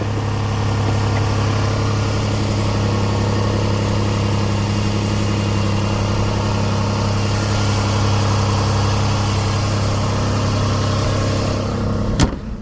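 A 2005 Toyota Highlander with a 3.3-liter V6 idles steadily while warming up on a snowy day, a constant low engine hum running close and loud throughout, with a brief bump near the end.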